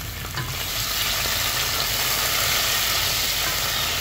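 Seafood hits a hot pan of browned garlic and ginger, setting off a loud, continuous close-up sizzle that holds steady for the whole stretch, with no one talking.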